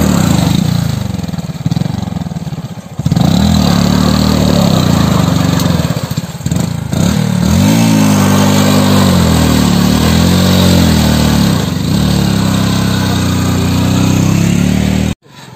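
A stuck motorcycle near the India–Nepal border revs hard, its loud, close engine drone rising and falling in pitch for the whole stretch, with brief dips around the third and seventh seconds.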